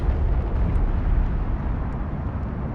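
Airstrike explosions in the real-time strategy game Homeworld: Deserts of Kharak form a dense, continuous low rumble and roar, a steady heavy wash of blasts without distinct gaps, with no speech.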